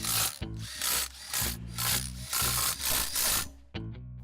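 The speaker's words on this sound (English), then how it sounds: "Replace the bezel and tighten each screw in a crisscross pattern." Repeated bursts of a power driver tightening the bezel screws on an explosion-proof LED light fixture, about seven close, loud whirring runs in steady succession with brief pauses between them.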